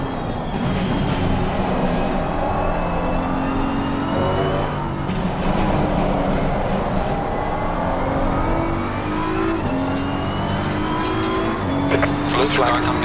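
A race car engine drones steadily in a racing game, its pitch sliding up and down through gear changes. Other cars pass close by, tires squeal faintly, and a radio voice talks over it.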